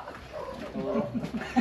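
A puppy found loose inside a building whimpers and yips in short, close bursts, with small squeaky cries rising toward the end.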